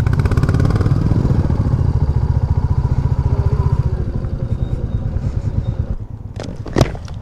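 Royal Enfield Classic 350 single-cylinder engine idling close by with a steady, fast thumping pulse that eases slightly toward the end, followed by a few sharp clicks and knocks.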